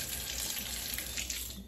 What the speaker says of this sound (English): you're gonna just run this under the water so that it's wet